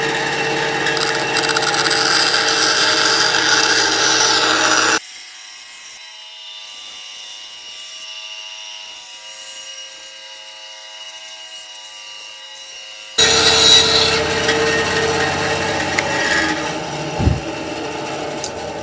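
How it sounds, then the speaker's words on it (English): A bandsaw cuts out a wooden shape, a loud whirring blade and motor with the rasp of cutting wood, interrupted by a long quieter gap before the cutting resumes, with a few knocks near the end. "we're gonna come on over here to the bandsaw, and you are going to cut out that shape"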